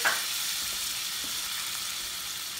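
Shallot and minced garlic sizzling in a pan with rendered drippings, an even, close hiss of frying that opens with a brief sharp burst and then holds steady, no voices.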